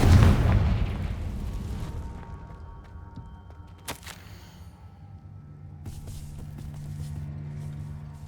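Confringo explosion spell in Hogwarts Legacy, a heavy booming blast right at the start that decays into a long rumbling tail, followed by a faint crackle and low ambient hum.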